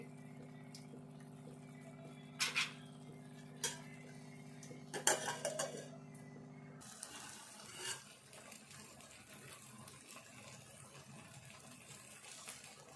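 Ridge gourd and tomato curry is stirred in a metal pot, with scattered close clinks and knocks of a spoon against the pot followed by a softer, steady simmering hiss.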